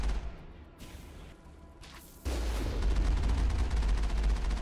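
Heavy gunfire and missile blasts in a Mass Effect fight against a Thresher Maw, starting as a dense rumbling barrage and then swelling into a louder, continuous roar of explosions and shots.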